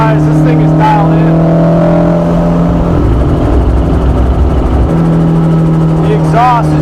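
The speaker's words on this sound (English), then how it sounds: "The exhaust is just absolutely perfect in this car. Not too loud, no backfires." A Honda S2000 Club Racer's engine and exhaust while driving, a smooth steady drone with a clear tonal hum that dips and returns as the throttle changes, heard close from inside the cabin.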